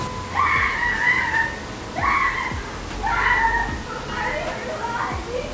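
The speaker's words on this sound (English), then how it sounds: "These kids be screaming" Children scream outdoors in repeated rising shrieks, several bursts over a few seconds at moderate distance, over steady background noise.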